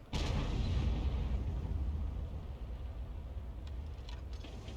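A single heavy boom of a tank gun firing premium ammo in a tank battle video game opens loud and close, then rolls off into a long rumbling decay with engine drone.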